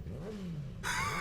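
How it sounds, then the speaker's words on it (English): A motorcycle engine echoes in a sewer in the video game Yakuza 0, a low rising and falling growl that abruptly gives way to a brighter, louder revving tone. "Did somebody bring a motorcycle down into the sewer?"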